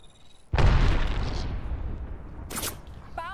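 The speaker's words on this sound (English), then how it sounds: "Thermite grenade out." A thermite grenade in a shooter game goes off with a sudden loud burst that settles into a sustained roaring, crackling burn. A sharp short crack follows near the end, and a faint electronic tone sits at the start.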